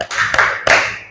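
Three crisp hand claps in an even rhythm from schoolchildren doing a 'tepuk salut' clapping chant in a classroom, close and fairly loud, the last clap ringing out briefly.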